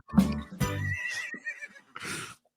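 A horse neighs loudly and close by in a long, whinnying call, followed by a shorter snort-like burst near the end, with no talk over it.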